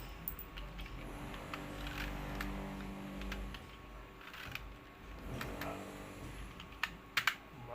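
Computer keyboard keys tapped while entering text into an Excel spreadsheet, producing a steady run of soft, close clicks over a low hum, with a few sharper taps near the end.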